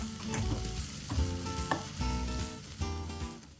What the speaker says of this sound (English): in the hot oil and ghee, add my onions and fry them off